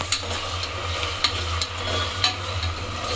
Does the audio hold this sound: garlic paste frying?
yes